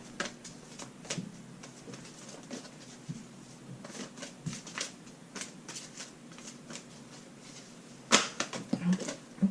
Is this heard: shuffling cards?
yes